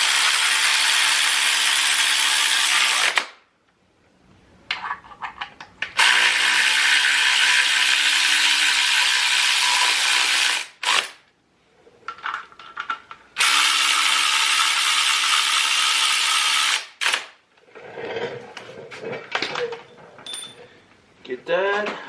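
Ratchet wrench snugging bolts on an H2B plate clutch and intake, heard as three long, steady runs of rapid clicking separated by short pauses with lighter clattering between.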